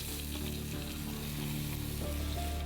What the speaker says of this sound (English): A sizzling pan first receives a portion of garlic